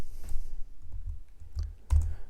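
Light clicking of a computer keyboard as code is typed, a few soft separate keystrokes spaced irregularly, faint and close, with no talking.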